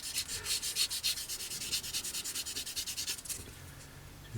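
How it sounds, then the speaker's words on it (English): Rapid back-and-forth rubbing of a polishing sanding stick across a plastic model kit seam, a close, quick rhythmic scratching with even strokes and no talk. "just sanding at 45 degrees across the seam"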